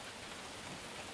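Steady rain falling, a soft, even hiss that runs unbroken at a low level, with no voices or other sounds standing out.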